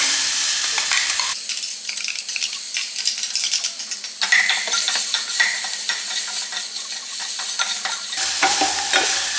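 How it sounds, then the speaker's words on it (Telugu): Green chili and garlic paste frying in hot oil for a tamarind rasam, with a loud crackling sizzle and the scrape of stirring close up, alone without voices. "ఇది వేసుకొని ఒక్క నిమిషం పాటు ఈ నూనెలో ఫ్రై చేసుకుందాం"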